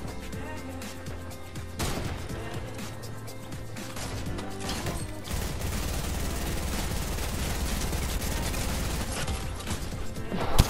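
Rapid, continuous gunfire in a Fortnite match runs densely throughout, a busy layered clatter of shots and impacts over a steady game background.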